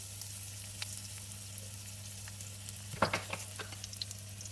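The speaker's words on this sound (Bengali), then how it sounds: "এটাকে একদম হালকা করে একটু ভেজে নিব" Chopped ginger and garlic frying lightly in a pan give a faint, steady sizzle over a low electrical hum, with a brief clatter of stirring about midway.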